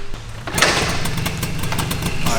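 A BMW E30 drift car engine cold-starts with no choke, catching after a brief crank and settling into a loud, choppy, lumpy idle close by.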